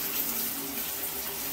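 Shower water streaming steadily over a pet bird, a soft even hiss of running water throughout with no voices.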